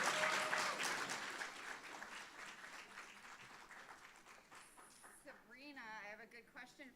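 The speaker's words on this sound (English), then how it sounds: "Give her a huge round of applause as she comes to the stage." An audience applauds as a student speaker comes to the stage at a panel event, loud clapping that gradually thins out before a voice takes over near the end.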